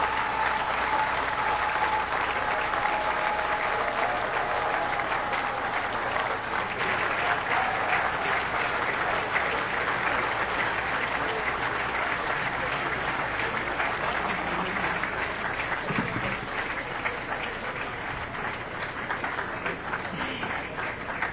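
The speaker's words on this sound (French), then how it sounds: "Je vous prie d'applaudir très très fort." Sustained applause from an audience at the inauguration of the new FECAFOOT headquarters in Cameroon, a dense steady clapping that fills the whole stretch without letting up.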